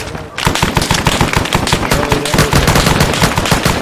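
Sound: machine gun fire in the video game Arma 3

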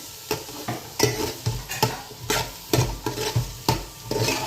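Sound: fish curry frying in oil

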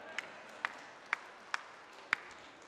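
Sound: congregation clapping at Mass

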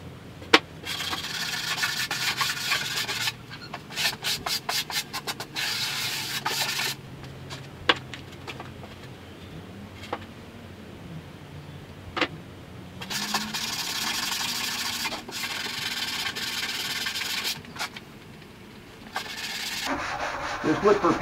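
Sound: sanding down high points on wooden end walls

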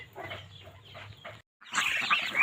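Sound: ducks and chickens clucking

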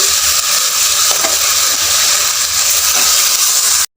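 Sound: chicken frying in pan with ginger garlic paste

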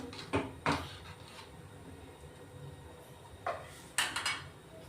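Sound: lid placed over a pan of mixed vegetable curry

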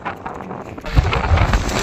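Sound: wind storm

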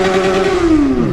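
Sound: Yamaha XJ6 motorcycle revving

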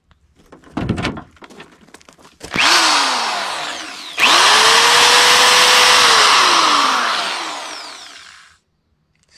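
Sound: electric drill running

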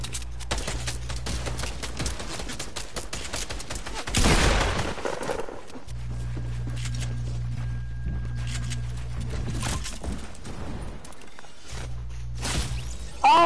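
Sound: gunfire in a video game

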